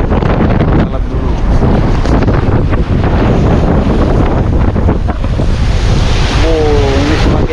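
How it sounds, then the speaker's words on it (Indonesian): Strong Red Sea waves crash and churn around a boat, loud continuous surging water with heavy wind buffeting the microphone throughout. "ini semakin kenceng ini ya ombaknya ya"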